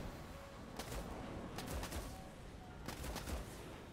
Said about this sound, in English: I'm gonna fire a missile.